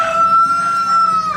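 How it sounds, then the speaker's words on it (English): A rooster crows loud and close in one long sustained call, with no talking over it. "Roosters are still screaming as soon as I start talking, every single friggin' time."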